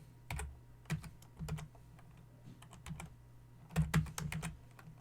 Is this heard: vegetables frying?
no